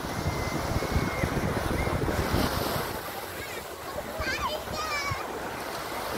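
Beach at Nassau, Bahamas, near the Atlantis hotel, with a steady roar of surf and strong wind noise on the microphone, voices of people on the beach faintly mixed in, the wash easing slightly midway.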